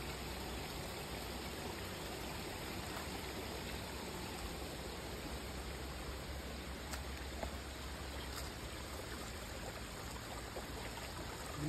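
A stream flows steadily nearby, producing a constant soft rushing and trickling of water with no voices, unbroken and even in level.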